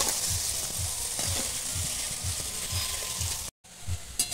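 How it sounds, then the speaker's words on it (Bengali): Chana dal frying in hot oil for crispy dalmoth sizzles steadily while a spoon stirs through it in a regular rhythm, close and moderately loud, with a short break near the end. "হালকা হালকা করে তাপও দিচ্ছি আর ভাজতে হবে এরকম নাড়তে হবে।"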